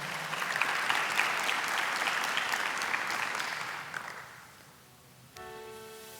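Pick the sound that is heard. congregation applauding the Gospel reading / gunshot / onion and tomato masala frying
congregation applauding the Gospel reading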